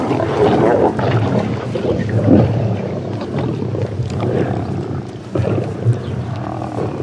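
Lions jostling and fighting over a kill, a dense snarling mass of growls and roars, loud and close, with rumbling grunts overlapping continuously.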